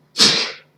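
A single sharp sneeze bursts out close and loud, a short airy blast lasting about half a second before it fades, with nothing else around it.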